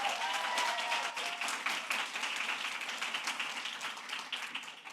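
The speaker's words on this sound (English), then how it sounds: "let's give them one more big round of applause as they go." An audience at a youth entrepreneurship challenge event gives a sustained round of applause, dense clapping holding steady for several seconds before slowly thinning, with no talk over it.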